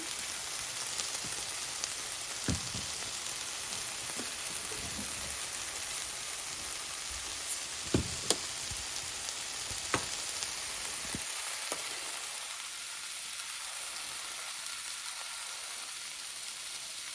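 Frozen chopped potatoes fry in a pan with a steady, close hiss and crackle, broken by a few sharp pops and scraping clinks, with no talking.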